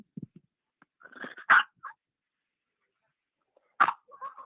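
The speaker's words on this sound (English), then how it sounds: "No barking." A dog gives a few short, soft barks and yips separated by pauses, close up in a quiet room, with a faint sniff at the start.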